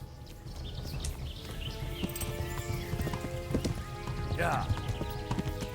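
Horse galloping in the video game Kingdom Come: Deliverance, a fast steady clip-clop of hooves with a short neigh near the end, while someone briefly talks over it.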